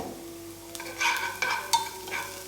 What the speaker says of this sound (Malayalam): എന്നിട്ട് ഉള്ളി നന്നായിട്ട് മിക്സ് ആക്കി കൊടുക്കുക